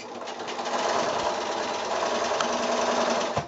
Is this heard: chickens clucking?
no